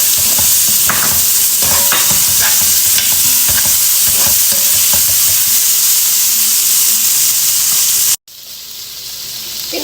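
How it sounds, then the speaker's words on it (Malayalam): Fried prawns being stirred into tomato masala in a pan, a loud, continuous sizzle and hiss with repeated scraping strokes of the spoon, then a brief cut and a quieter sizzle near the end. "ഇനിയിപ്പോൾ ഈ സമയത്ത് ഇതിലേക്ക് ഞാൻ നേരത്തെ പൊരിച്ച ചെമ്മീനില്ലേ അതും കൂടി ചേർത്ത് കൊടുക്കുന്നുണ്ട്. എന്നിട്ട് നല്ലോണം മിക്സ് ചെയ്തെടുക്കാം."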